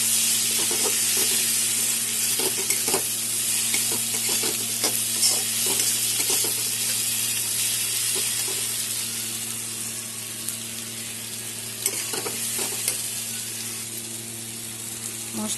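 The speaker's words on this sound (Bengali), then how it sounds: "এখানে 1 চামচ জিরার গুঁড়ো, 1 চামচ ঝাল লঙ্কার গুঁড়ো আর অল্প কাশ্মীরি লঙ্কার গুঁড়ো, একটা কালারের জন্য দিয়ে মশলাটা সব কষাবো" Ground cumin and chilli powders, including Kashmiri chilli, stir-fry in oil for a Bengali fish curry masala, a loud steady sizzle broken by repeated clinking spatula scrapes against the pan, no speech.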